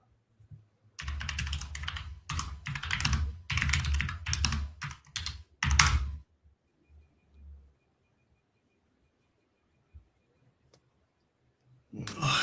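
Clicky computer keyboard typing in quick bursts with short gaps, fairly close and loud, then quiet before a brief new sound at the end; no talk over it.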